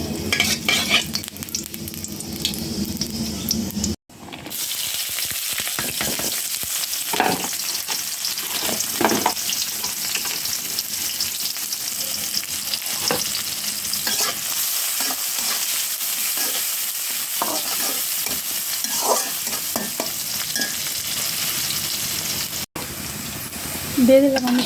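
Boiled drumstick leaves frying in a pan give a continuous loud hissing sizzle with scattered crackles and stirring scrapes, close throughout, while a voice talks intermittently over it.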